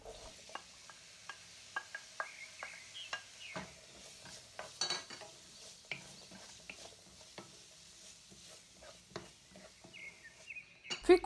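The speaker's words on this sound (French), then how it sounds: "Puis ajoutez un oignon et 1 gousse d'ail émincée et faites revenir à feu moyen jusqu'à ce qu'il soit translucide." Onion, garlic and vegetables being sautéed over medium heat in a pan, with soft sizzling under repeated scrapes and clicks of a utensil stirring; close, intermittent and fairly quiet, no talking.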